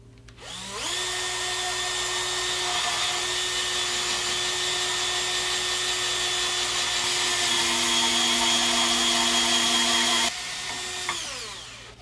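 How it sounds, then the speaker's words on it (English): A power drill bores two holes through a metal plate set over a wooden Telecaster-style guitar body, a steady close whine running unbroken for about ten seconds before cutting off. "just drill these two holes to begin with"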